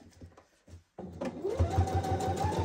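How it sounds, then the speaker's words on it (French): A sewing machine runs a holding stitch 3 mm from the edge to pre-fix a pocket on a beginner's sewing project. A few soft knocks come first, then a steady, close motor whir with a rhythmic stitching pulse. "on va faire une petite piqûre ici à 3 mm du bord là et là pour préfixer la poche"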